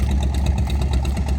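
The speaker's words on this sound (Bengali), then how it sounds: "এই যে আমাদের নৌকাটা কাছাকাছি চলে আসছে।" A motor boat engine drones steadily up close, a continuous low rumble with rhythmic pulsing and no speech.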